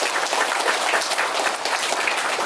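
An audience at a school Flag Day ceremony gives the color guard a round of applause, a dense, continuous wash of many hands clapping, steady and close throughout.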